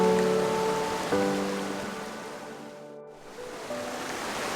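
Doe River water rushes over rocks in a steady, close broadband wash, with sustained tonal notes layered on top that fade briefly near the end and then return.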